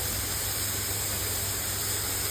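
Spinach sautéing in a hot pan, a constant dense sizzling hiss with a low rumble underneath, steady and close throughout.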